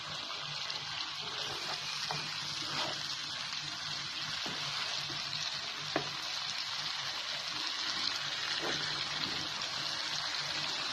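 Muttar paneer masala sizzles softly in a pan while being stirred, a low continuous frying hiss with a few faint clicks of the spoon and no talk.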